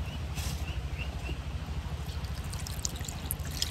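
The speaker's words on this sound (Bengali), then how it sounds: "তাই আমি একটু পানি দিয়ে দেবো" Cold water is poured in a thin stream into rice flour for pitha, a faint, soft trickle and splash heard up close in a quiet kitchen, without speech.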